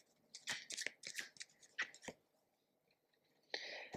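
Tarot cards being shuffled and riffled by hand, a quiet close-up series of crisp flutters and slaps in short irregular bursts, ending with a longer riffle.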